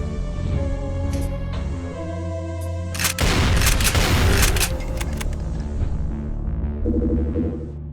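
Enemies in a Doom 2 mod episode fire a wide spread of projectiles at once, making a loud, dense burst of blasts near the middle, set over steady droning game music with a few sharper hits before and after.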